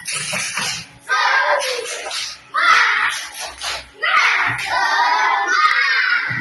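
Children in a classroom do a rhythmic spirit clap, bursts of clapping in patterned groups separated by brief pauses, mixed with shouted chanting voices.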